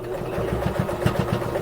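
Sewing machine topstitching around a small fabric gift bag, a steady, fast, even mechanical whir with a regular stitch pulse, close and continuous.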